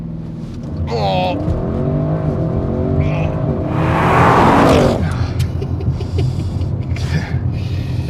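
A 2024 Audi RS6 launches hard from a standstill, its engine note swelling into a loud, rising roar that peaks and eases back, heard from inside the cabin while a voice exclaims briefly.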